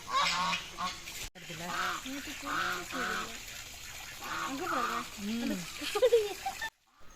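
Ducks quack and honk repeatedly in a lively, close chorus, with a brief dropout near the end.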